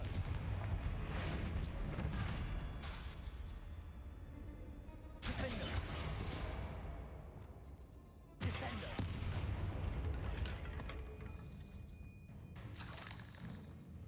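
Bombarda and Confringo spell blasts in Hogwarts Legacy, several heavy booming bursts at intervals that each hit hard and then trail off, with game music and effects running between them.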